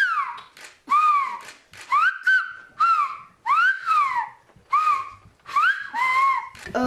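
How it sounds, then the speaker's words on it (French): Pupils at a bilingual French-Occitan school whistle phrases in the Occitan whistled language: about eight clear, loud whistled calls with sweeping rising and falling pitch, separated by short pauses. "le sifflement en langue occitane"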